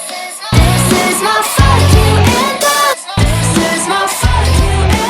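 High, chipmunk-like singing over a steady musical beat, loud and continuous with brief pauses between phrases.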